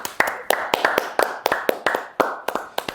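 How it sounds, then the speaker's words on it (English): Rhythmic hand clapping, a round of applause for a teammate, with sharp, close claps roughly every quarter second, likely only a few people clapping together in a small room. "A round of applause for Luis."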